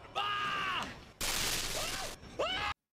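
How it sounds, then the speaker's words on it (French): Grenade explosions in the Star Wars Battlefront video game: two loud bursts of harsh, shattering noise, each roughly a second long, with tonal whining game effects between and after them. "Et ça, c'est vraiment le bruit d'explosion des grenades."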